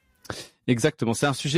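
A pet cat meows close by, a short tonal cry at the start, followed by someone speaking French over it.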